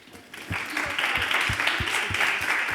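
An audience applauds at a queer antifascist pride talk, the clapping starting after a brief quiet moment and then holding steady as a close, continuous patter.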